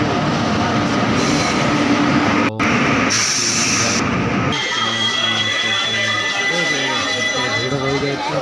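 A passenger train pulls into a busy station in Odisha, its heavy rumble and rolling wheel clatter loud and close, with a person talking over the noise.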